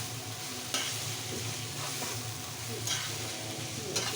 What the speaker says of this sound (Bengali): ভালো করে নেড়ে ছেড়ে ভেজে নিচ্ছি